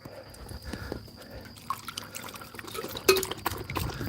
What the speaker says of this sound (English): All right, Zeus, let's get some water.